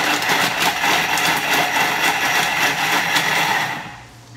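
A Thermomix blade whirring at high speed as it chops a lemon, a loud, dense, continuous buzzing roar that tapers off near the end.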